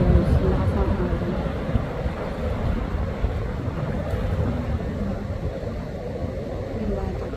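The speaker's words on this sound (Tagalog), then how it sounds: "Ayan yung lakas ng hangin." Strong wind buffets the microphone outdoors by the water in cold, rainy weather, a loud continuous roar and rumble throughout, with no clear voices.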